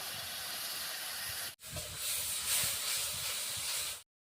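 Ground spice paste, salt and turmeric hiss and sizzle in hot oil for village-style prawn bhuna. The sound is a loud continuous frying noise with a brief break partway through, then stops abruptly.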